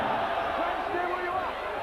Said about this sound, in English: for once tonight, the home crowd are cheering